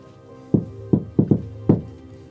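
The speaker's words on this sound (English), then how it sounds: "will knock on the door first." Knocking on a door, five distinct, solid raps in an uneven rhythm, close and fairly loud over a low steady hum, with no talking.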